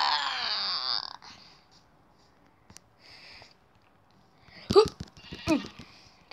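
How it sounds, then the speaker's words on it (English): Sheep bleating in Minecraft Pocket Edition, with a couple of short wavering bleats near the start and two sharper calls close together near the end, set apart by quiet gaps. "Oh, I can see two sheeps."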